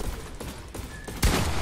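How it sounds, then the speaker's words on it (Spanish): Sniper gunshots in a video game: muffled thuds under background noise, ending in a loud, sharp shot with a booming low tail near the end. "no la pienso y disparo"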